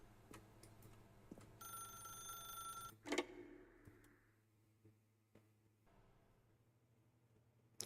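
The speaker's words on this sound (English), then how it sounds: "then pick up the phone" In the video game The Stanley Parable, a telephone rings with a bright, repeated electronic trill lasting about a second and a half. A louder clatter follows, then a quieter room with faint scattered clicks.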